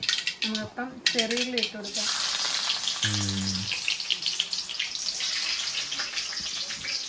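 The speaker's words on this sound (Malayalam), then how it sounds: "കടുക് പൊട്ടിയിട്ടുണ്ട്" Mustard seeds splutter in hot oil, a bright continuous sizzle with scattered crackles that takes over after a voice speaks briefly at the start.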